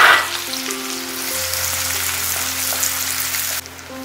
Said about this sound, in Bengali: এরপরে দিয়ে দিচ্ছি কুচি করে রাখা পেঁয়াজ।